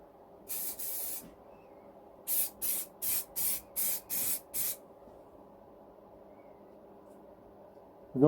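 Aerosol spray paint laid on in a light coat for a Honda CB400T motorcycle restoration, one longer hiss followed by six short, evenly spaced bursts, close and clear in a quiet room.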